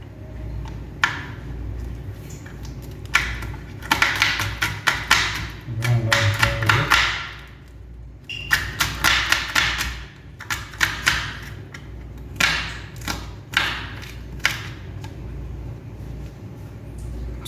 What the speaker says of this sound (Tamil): இதை ரெண்டு சின்ன சின்னதாக கட் பண்ணிக்கிறேன்